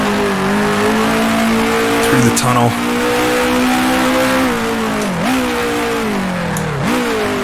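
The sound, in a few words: 1966 F1 car accelerating, video game Grand Prix Legends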